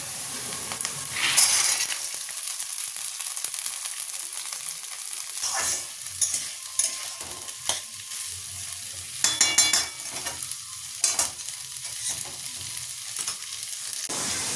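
Boiled peas stirred and fried in a pan on a home stove, giving a continuous soft sizzle broken by scraping spoon strokes and occasional clinks, fairly close, with no talking.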